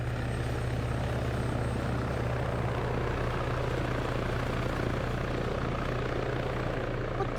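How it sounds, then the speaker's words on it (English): Steady helicopter rotor drone from a video game military operation, a continuous low thrum that holds loud and even throughout with no talk over it. "That heli's still up."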